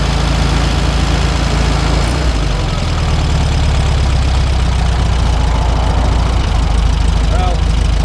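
A VW Beetle engine runs steadily after a valve adjustment, a loud close idle with rhythmic mechanical chatter and a deep continuous drone throughout.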